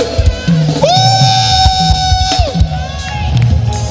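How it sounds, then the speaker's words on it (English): Church congregation at a communion service cheering and shouting in a loud, continuous crowd roar, with voices rising over the noise and bursts of clapping mixed in. "Give him a clap, a leap of joy, a shout of victory."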